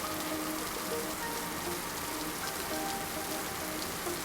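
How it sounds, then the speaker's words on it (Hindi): Heavy rain pours steadily onto a flooded street, a dense continuous hiss of drops hitting standing water, loud and close with no gaps for the whole stretch. "बहुत तेज़ बारिश हो रही थी"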